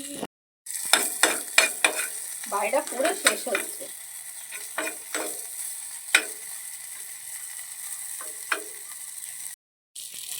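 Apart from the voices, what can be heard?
small prawns frying in a pan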